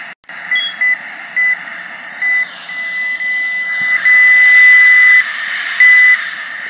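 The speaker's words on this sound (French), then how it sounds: "vous voyez les signaux d'alarme pour me dire que je décolle trop haut avec très peu de vitesse" Stall warning alarms sound during takeoff in the Infinite Flight simulator game: a loud steady electronic tone broken into repeated beeps over a constant jet engine hum.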